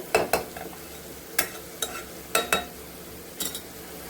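Fried eggs and potatoes stirred into oily spice paste in a pan, with soft sizzling under a handful of sharp spatula scrapes and knocks spaced irregularly.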